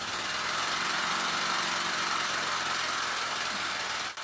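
A homemade air engine with a square piston runs steadily, giving a dense, continuous mechanical whir and hiss at an even loudness throughout, with a brief dip at the very end.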